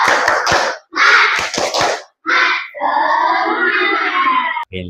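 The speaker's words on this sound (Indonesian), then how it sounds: "Tepuk semangat." Schoolchildren in a classroom do a rhythmic spirit clap, with quick bursts of hand claps followed by loud group chanting voices.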